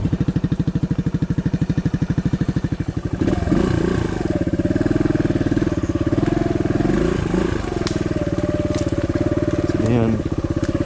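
A 2009 Suzuki DR200 dual-sport motorcycle rides through a swampy off-trail area, its single-cylinder engine chugging loudly and steadily up close, rising in revs partway through with clattering over the rough ground.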